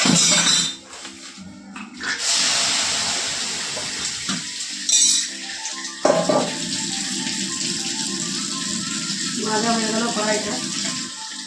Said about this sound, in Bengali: কলে জল আছে একবারে আমি মেজে নেবো